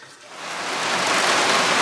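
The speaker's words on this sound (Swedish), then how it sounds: "då kom lite regn också" Outdoor rain starts falling on a bright day and builds over about two seconds into a steady, broad hiss of drops hitting surfaces.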